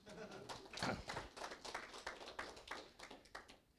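An office meeting audience claps in a steady, crowded patter of many hands that runs for a few seconds, with a voice talking over it.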